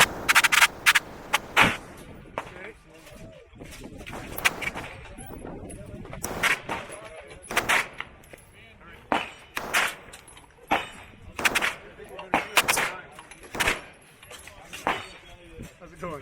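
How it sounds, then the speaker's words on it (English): Machine gun firing in full auto at a trade show range, sharp bursts of shots repeating through the clip, loud and close, with people talking between and over the bursts. "So that's also a machine gun. Right now it's in full auto, it's hot."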